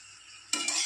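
Spatula stirring a frying vegetable curry of red amaranth stems in a pan, a sudden loud scrape and sizzle bursting in after a quiet pause, with a second scraping stroke close behind.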